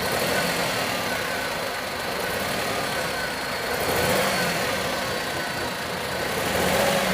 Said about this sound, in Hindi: और यहाँ पे हिल रहा है इंजन, और इसको मैं थोड़ा एक्सीलरेट दूंगा तो ये गाड़ी जर्किंग होएगी।